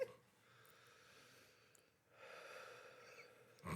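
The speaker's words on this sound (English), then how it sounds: "Breathe into the mic so Katie can pick which one it is." Breaths blown into a microphone during a casual group recording, two long airy exhalations separated by a short pause, close and fairly quiet with no talking.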